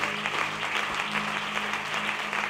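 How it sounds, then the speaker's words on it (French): Sustained, dense applause from a church audience during a French-language sermon, with the clapping even and loud throughout and no distinct voices standing out. "Est-ce qu'on peut acclamer très fort?"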